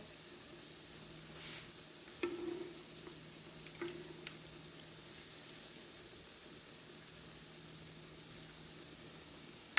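Mochiko-coated mahi mahi fillets fry in a pan with a soft, steady sizzle, broken by a few faint clinks and shuffles.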